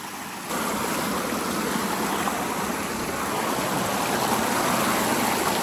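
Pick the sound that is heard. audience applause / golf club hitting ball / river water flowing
river water flowing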